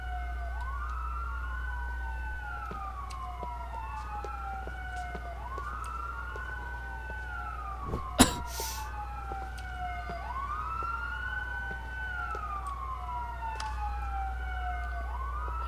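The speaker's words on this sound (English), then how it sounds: "Ambulance is coming." Ambulance siren in the GTA IV LCPDFR police mod, a steady wailing sweep repeating about every two seconds under a low engine drone, holding at a constant distance, with one sharp bang midway and no talking.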